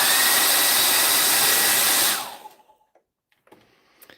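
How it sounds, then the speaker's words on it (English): A hair dryer blows steadily and loudly at close range for about two seconds during makeup work, then switches off abruptly, leaving near silence with a few faint clicks and small handling sounds. "Get your hairdryer"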